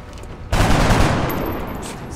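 Gunfire from the XCOM: Enemy Unknown video game erupts suddenly and loudly as a dense, sustained volley, holding steady before tapering slightly toward the end.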